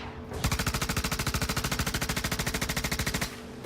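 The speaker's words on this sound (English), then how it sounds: "Somebody's shooting at me." Rapid automatic gunfire in the space game Star Citizen, a steady burst of evenly spaced loud shots lasting about three seconds with no talking.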